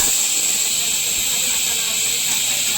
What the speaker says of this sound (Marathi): आता हे वाटण आहे ते फ्राय करून घ्यायचं